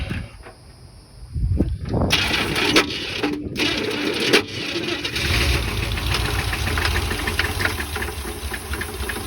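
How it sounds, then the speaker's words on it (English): Neglected 1981 K10 truck engine cranks in short bursts, then catches and runs roughly with an uneven, knocking idle, fairly close and loud throughout. "We're gonna put some fuel in it anyway and some ignition and just see what happens nonetheless."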